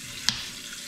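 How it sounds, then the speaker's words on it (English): Tap water runs into a pan in a kitchen sink as it is rinsed before seasoning with olive oil, a steady close hiss with one brief splash or clink near the start. "throw your pan somewhere in your sink, get water on it"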